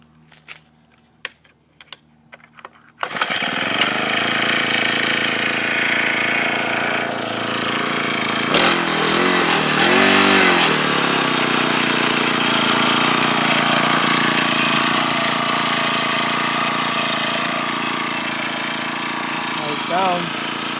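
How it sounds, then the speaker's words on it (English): A small engine on a motorized bicycle starts after a few clicks and light taps, then runs loudly and continuously, revving up briefly and settling into a steady buzzing idle, with a voice talking over it. "I'm going to show you how the engine sounds."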